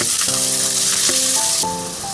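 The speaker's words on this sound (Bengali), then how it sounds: "হালকা করে ভাজবো, লাল রংটা ধরে আসার আগ পর্যন্ত পেঁয়াজটা ভাজবো" Chopped onions sizzle in hot mustard oil in a frying pan, a steady loud crackling hiss with a few short tonal clinks of stirring, no voices.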